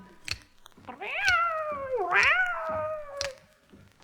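A long, sliding, wavering cat meow, vocal and musical like a comic performer imitating a cat, rises and falls over about two seconds in a comic song, with light percussive clicks before and after.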